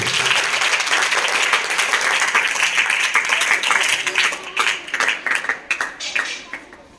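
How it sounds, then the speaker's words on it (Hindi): Students at a mathematical morning assembly break into loud, dense applause that holds strong for several seconds, then thins into scattered individual claps as it fades out. "इसको शुरुआत करें जोरदार तालियां बजा करके"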